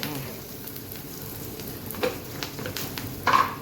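Turmeric sizzles in a little hot oil on a griddle for dry pithla, a quiet steady frying hiss with a few brief crackles near the end and no talk.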